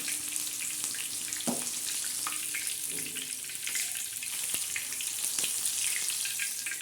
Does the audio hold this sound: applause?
no